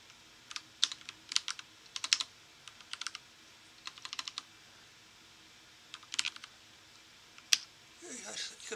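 Someone types a search into the BigQuery public datasets page on a computer keyboard, with quick bursts of clicky keystrokes separated by short pauses and a brief voice at the very end.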